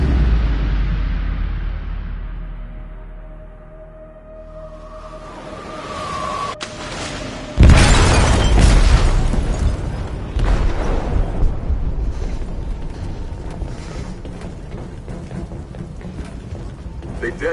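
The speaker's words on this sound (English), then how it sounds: "They detonated an explosive in the hold." An explosive goes off in a ship's hold in Detroit: Become Human: a sudden loud blast cuts through a low rumbling scene, followed by a long crackling, roaring aftermath and a second heavy burst a few seconds later.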